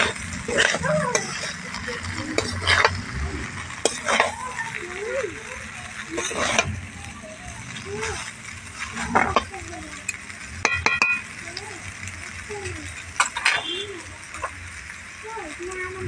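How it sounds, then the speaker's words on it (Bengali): A spatula stirs fried eggs into egg chowmein in a pan, scraping and tossing noodles with faint sizzling, intermittent clatter against the pan, moderately quiet under occasional background sounds. "আবারও খুব ভালোভাবে নাড়াচাড়া দিয়ে দেবো।"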